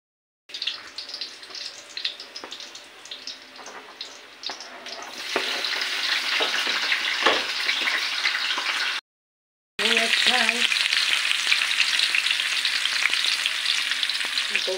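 Garlic crackles in hot oil in a pan while adobong atay balunan is being cooked, first as a moderate sizzle and then as a louder, steady hiss after a short break, with brief clinks from stirring.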